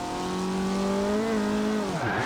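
A Porsche Macan Turbo in Forza Horizon 2 drives with a steady, loud engine tone that climbs in pitch, then drops sharply as the car shifts or brakes near the end.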